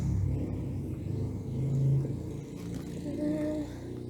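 A motorcycle rumbles past on the street, a low steady engine drone that swells and eases over several seconds, heard from indoors with no talking.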